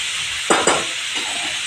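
Steady coconut-oil sizzle of tender jackfruit frying in a tempering, with a couple of brief stirring scrapes near the start, then continuous crackling hiss.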